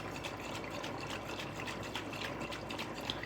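Pasta water is shaken inside a jar of four-cheese Alfredo sauce, giving a faint, continuous liquid sloshing and swirling sound for a few seconds.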